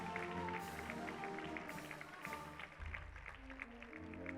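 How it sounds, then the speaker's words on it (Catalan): Applause from an audience at a Moros i Cristians festival presentation evening in Calp, dense steady clapping with a low hum of voices underneath. "Demanem un fort aplaudiment per a ells."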